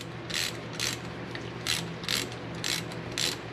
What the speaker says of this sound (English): But we just go ahead and tighten this down.